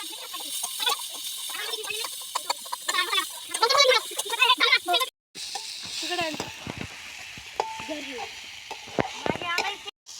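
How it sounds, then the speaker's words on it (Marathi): Chopped onion goes into hot oil in a wok while cooking outdoors at a farm during a village fair, hissing steadily up close while people talk and chickens cluck in the background. "आणि आपण ह्याच्यामध्ये आता कांदा टाकूया."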